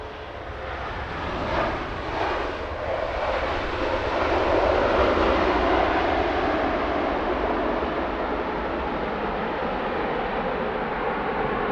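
Airliner arriving at London Heathrow Airport, its loud broadband jet roar swelling and holding steady as the plane lands, with thrust reversers deployed, heard from a distance with no talking.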